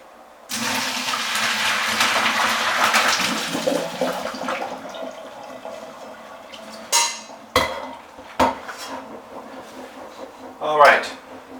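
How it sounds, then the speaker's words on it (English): Pasta gnocchi and edamame beans pour from a pot into a strainer in a kitchen sink, a broad rushing splash of water for several seconds, followed by a few sharp metallic clanks and knocks of the pot and strainer. "So I'm going to strain the pasta gnocchi with the edamame beans into a strainer in the sink."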